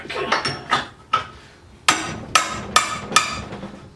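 A hammer strikes rusty suspension bolts on a sway bar, seven sharp metallic whacks in uneven bursts, the later blows louder and closer together, each ringing briefly before the next.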